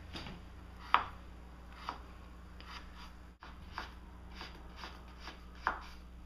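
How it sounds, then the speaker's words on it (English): A knife cuts through palm sugar in a quiet kitchen, giving a handful of crisp, separate chops spaced about a second apart over a low background hum. "So I'm going to cut the palm sugar"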